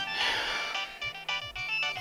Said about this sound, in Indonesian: itu HP siapa sih yang bunyi terus?